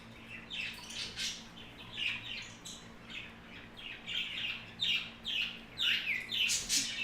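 A pet bird kept among a large flock squawks and chirps in a rapid series of short, bright calls, fairly close and moderately loud, with no talking over it.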